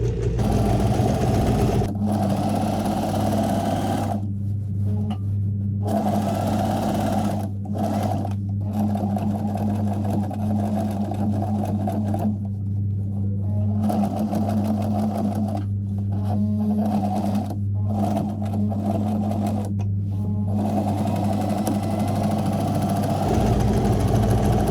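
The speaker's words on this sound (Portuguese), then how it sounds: "Voltando para reforçar na lateral, eu vou passar a costura no mesmo ponto." Sewing machine stitching and backstitching a reinforcing seam on the side of a messenger bag where the strap attaches, a loud, close, steady motor whir running in long bursts broken by short pauses.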